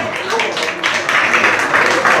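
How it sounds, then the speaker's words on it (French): An audience applauds at a tribute event for musicians, a steady wash of clapping that swells toward the end, mixed with voices. "un applaudissement pour la cascade"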